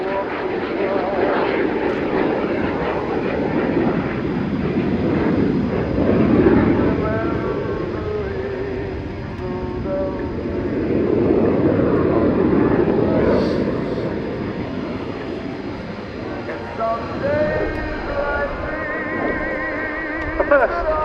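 A Fiat G91R jet flies past at the RIAT airshow, a loud, sustained engine roar that swells and recedes in broad waves over wind buffeting, with a commentator's voice over the public address throughout.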